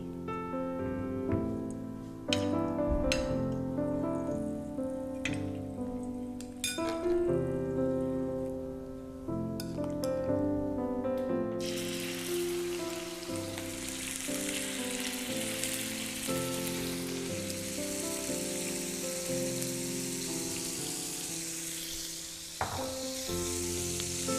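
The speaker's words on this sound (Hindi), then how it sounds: "जब ये मसाले स्प्लटर करने लग जाएंगे हम डालेंगे इस पर ये मैरिनेट किया हुआ कलेजी" Whole spices spluttering and sizzling in hot oil for tawa kaleji, a steady crackling hiss with sharp pops, close and fairly quiet, with a louder burst of frying partway through.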